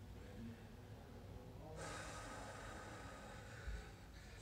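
A single person breathes during a breathing exercise: soft, faint breaths, then a sharp, sustained inhale-like rush of air that trails off, with a brief thump near the end.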